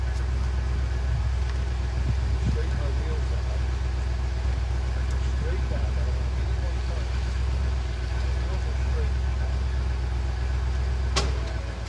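A pickup truck idles steadily close by while it is shifted into reverse and back to park to set a camper hitch down onto the ball, a continuous low drone with faint clicks and no break.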